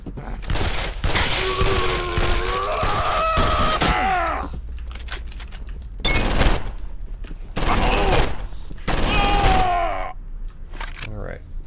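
Gunshots in the horror video game Condemned: Criminal Origins, several loud sharp bursts scattered among groans, clatter and other game noise at close range.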